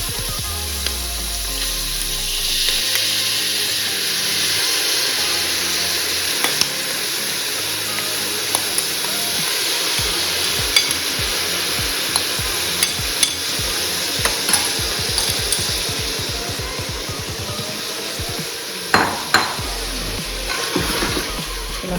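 Rice sizzles steadily in hot oil in a pan for veg pulao, with repeated close scrapes and taps of a spoon stirring it through a continuous frying hiss.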